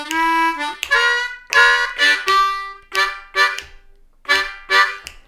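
A C harmonica plays a blues lick, a string of loud, bent, sustained phrases with short gaps between them, played close and solo with no talking.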